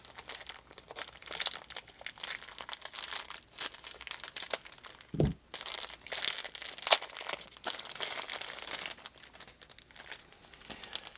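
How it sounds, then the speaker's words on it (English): A French commando hot-climate ration accessory pack being unpacked, with close, busy plastic and foil crinkling and a few sharper tearing bursts, no speech. "let's go and unpack this accessory pack before we go any further"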